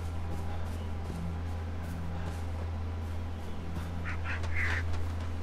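Birds in Far Cry 4 call faintly over a steady low ambient hum, a few short quacking squawks clustered near the end of an otherwise quiet stretch.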